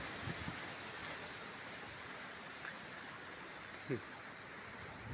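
Wind and rain from a sudden dusty thunderstorm, a steady broad rushing wash with a few faint short knocks, and a brief spoken word near the start.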